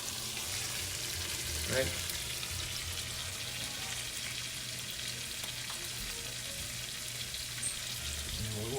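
Garlic and shallots sizzle steadily in a pan, a constant hiss of frying heard close, with brief talk over it.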